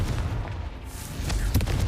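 Confringo explosion spell cast in the Hogwarts Legacy video game, a loud booming burst with rumbling low end, followed by sharper cracking impacts near the end.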